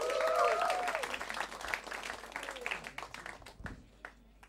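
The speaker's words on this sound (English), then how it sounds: "a big round of applause for Mr. Paul James." Audience applause at a stand-up comedy show in Bombay, fairly loud at first and then thinning into scattered claps as it fades, with some faint voices and background sounds mixed in.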